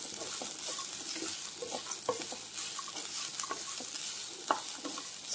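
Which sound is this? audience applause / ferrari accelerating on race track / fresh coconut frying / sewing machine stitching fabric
fresh coconut frying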